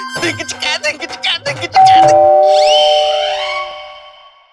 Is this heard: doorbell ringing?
yes